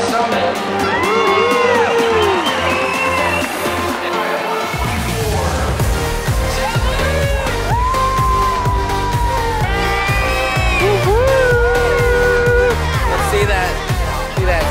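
Crowd at a state-level competition match cheering and whooping, loud and continuous with music-like tones and shouts throughout, close and dense.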